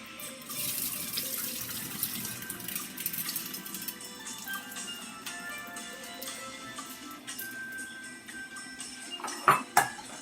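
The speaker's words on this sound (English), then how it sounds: "You give it another wash. Take out all that excess starch in the rice." Rice being washed under a running kitchen tap, with a steady flow of water into a bowl, soft swishing and squishing of the grains, and a couple of louder clunks near the end.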